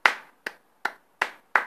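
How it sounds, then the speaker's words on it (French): Hands clapping in applause: five sharp, evenly spaced claps close by, each ringing out briefly with quiet gaps between, like one person clapping slowly. "elle mérite applaudissements de tous les fans des Bordeaux"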